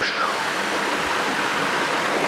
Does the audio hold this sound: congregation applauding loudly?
no